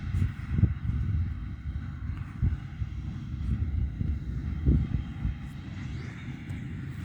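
Krone Big Pack 1290 baler pulled by a Fendt tractor while baling alfalfa hay in a field, a low, steady mechanical rumble with rhythmic thumps and wind noise across the microphone.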